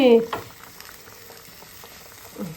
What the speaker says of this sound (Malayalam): അപ്പൊ കറി എന്നായെന്ന് നോക്കട്ടെ കറി തിളച്ചിട്ടാണ് കാണും